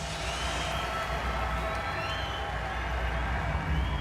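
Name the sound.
Glasgow boxing crowd cheering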